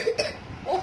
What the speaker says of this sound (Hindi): इसको बहुत खांसी हो गई है।